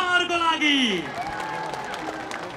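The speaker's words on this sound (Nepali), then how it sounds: "ताली उहाँहरूको लागि" Applause from an audience after a cultural show at a Nepal festival, a soft crowd clatter running steadily beneath a voice speaking and singing over a microphone.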